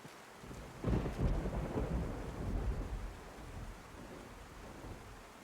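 A rolling clap of thunder from a DayZ video game storm breaks suddenly and rumbles on for several seconds before fading, with steady rain hissing underneath throughout.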